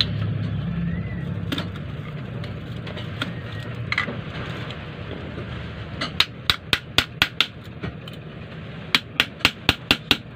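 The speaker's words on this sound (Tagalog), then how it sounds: "so ginamitan natin ng martilyo saka screwdriver" Sharp metallic hammer blows on a washing machine motor, with a screwdriver, ring out over a low rumbling background, first scattered, then in quick repeated bursts of strikes, while stripping out the copper windings.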